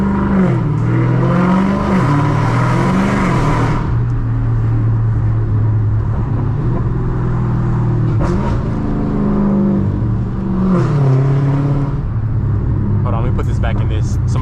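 A 1000 hp Dodge Hellcat Redeye, driven in sport mode, gives a deep engine drone from inside that rises in revs in surges and settles between them, with someone talking over it at times.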